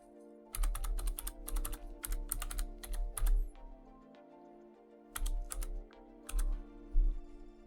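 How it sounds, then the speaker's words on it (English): Rapid clicking keystrokes on a computer keyboard as a Wi-Fi password is typed during setup of a NerdQaxe++ Bitcoin miner, two bursts of several seconds split by a pause, close and crisp over a low hum, with no talking. "Now we're going to put my Wi-Fi password in."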